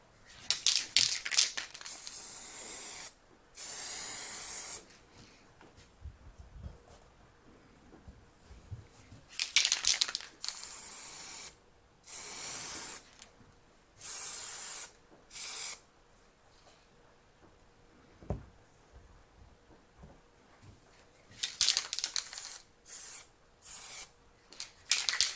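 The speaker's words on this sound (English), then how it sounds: "the last part we're doing, which is spraying the inside." Quick-drying satin spray paint hissing onto the inside of a wooden router plane, coming in repeated bursts of a second or two, each loud and close, separated by quiet gaps with faint handling noises.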